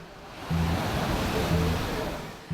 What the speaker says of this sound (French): le vent se lève et les vagues se font de plus en plus fortes